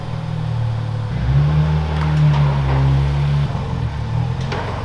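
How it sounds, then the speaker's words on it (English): A car engine fires on a cold start, its loud low drone swelling and holding at a raised idle before the pitch drops back, heard close by without talk. "This cold start's about to rock your world."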